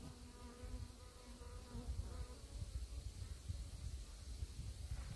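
Honeybees buzzing around hive frames during an inspection of small nucleus hives, a close, continuous droning hum that wavers as individual bees pass by, fairly quiet and with no talk.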